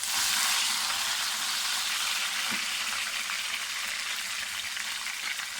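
Continuous loud sizzle of tomatoes and green chillies frying with garlic and ginger in a hot pan, close and steady, with a faint stir or tap midway.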